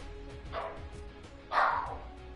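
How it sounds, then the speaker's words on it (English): Dogs in a house bark twice, a softer bark followed by a louder one, somewhat distant and muffled under a low background hum. "if you hear my dogs bark, can't really control that"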